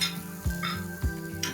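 Chopped shallots and asafoetida sautéing in a pan, with a steady sizzle under a few scraping stirs of a spoon against metal, close and moderately loud.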